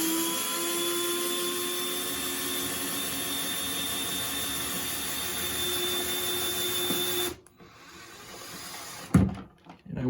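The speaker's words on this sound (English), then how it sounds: "I'll center the outlet as I'm screwing it in" A steady, droning whir runs for several seconds while an electrical outlet is screwed into a wall box, then cuts off abruptly, followed by a few short clicks and knocks.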